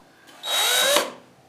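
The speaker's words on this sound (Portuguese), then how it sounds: "Preciso alargar o buraco com a furadeira e tirar isso." A power drill widens a hole in wood during stool-making joinery, giving one short whining burst of about half a second that rises and cuts off sharply, heard alone up close.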